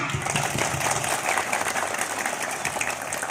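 Elementary school children at an anti-bullying assembly clap together in a brief, lively burst of applause, dense and even from start to finish.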